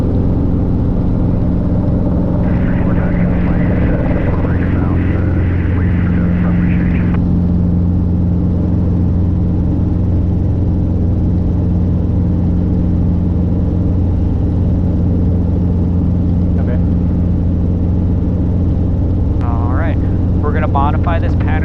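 Robinson R22 helicopter taking off from a short space: a loud, steady engine and rotor drone holds throughout, with a brief higher whine early on and short radio-like chirps near the end.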